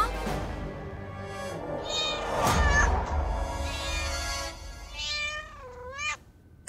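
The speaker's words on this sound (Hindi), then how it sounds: "बिल्ली है।" A cat meows several times in a home, with rising and falling calls that end in a drawn-out caterwaul, clear and fairly close over a low background rumble.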